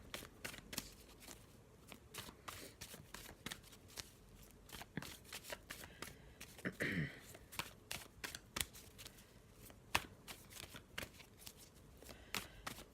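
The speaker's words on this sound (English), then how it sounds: "let's have a little shuffle, just using this black and white Faulkner deck as usual" A black and white Faulkner tarot deck is shuffled by hand close to the mic, giving repeated soft riffling and flicking bursts through most of the passage, with brief pauses between them.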